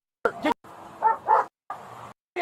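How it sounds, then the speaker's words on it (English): A dog barks in a few loud, close bursts with yips, amid shouting in a tense outdoor encounter. "Get your dog!"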